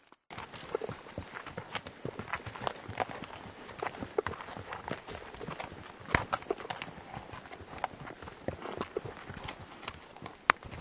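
Horses walking on a trail during an elk hunt, a steady irregular clip-clop of hooves close by, with soft rustling and no talk.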